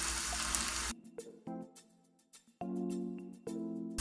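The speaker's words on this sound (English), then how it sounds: "So I'm just going to pour a shallow pool of vegetable oil." Vegetable oil poured into a frying pan to make a shallow pool for beef and scallion pancakes: an uneven, close trickling and splashing pour that comes in short bursts separated by quiet gaps, with no talking.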